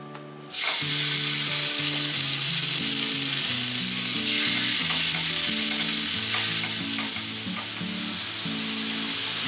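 Steaks hit a hot pan and burst into a loud, steady sizzle that holds for several seconds, with a faint low hum from the stove running beneath.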